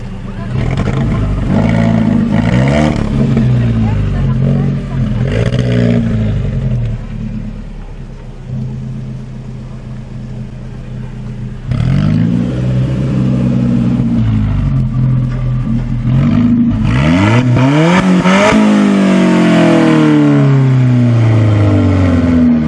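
An Alfa Romeo 4C's small four-cylinder engine revs and rumbles up close, rising and falling through gear changes in long accelerating pulls, with a voice briefly audible.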